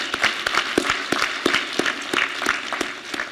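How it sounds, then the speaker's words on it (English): Applause for a professor at a high school equivalency graduation. Sparse, distinct hand claps from a small group, moderately loud and fairly close, keep going unevenly with no talk over them. "Let's give her a round of applause."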